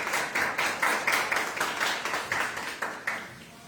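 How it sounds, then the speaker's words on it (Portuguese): A church congregation claps together in a steady, rhythmic beat during a service, the applause filling the room at a moderate distance. "Você pode aplaudir ao Senhor em nome de Jesus?"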